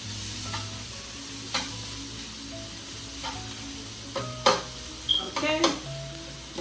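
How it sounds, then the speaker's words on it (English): Garlic, ginger and noodles stir-fried in a pan: a steady low sizzle with scattered scrapes and clinks of a utensil against the pan, a few sharper knocks near the end. "Mix everything together."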